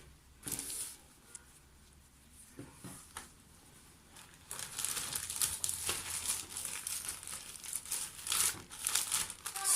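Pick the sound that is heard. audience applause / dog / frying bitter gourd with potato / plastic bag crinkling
plastic bag crinkling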